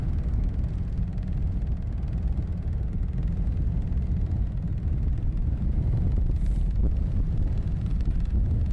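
Strong gale-force wind at London Luton Airport buffets the microphone, producing a loud, constant low rumble with gusty swells throughout.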